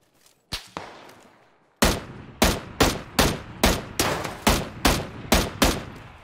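Gunfire in the battle game PUBG: two early shots, a pause, then a rapid series of about ten loud, evenly spaced sharp cracks, each with a short decaying tail.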